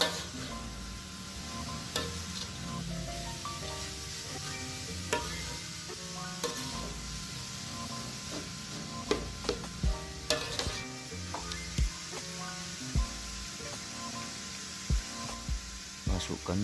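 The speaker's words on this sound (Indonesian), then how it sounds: "Setelah itu aduk-aduk bumbunya biar tercampur merata." Utensil scraping and stirring seasoning in a pan for pempek filling over a steady sizzle, with scattered sharp clinks and knocks throughout.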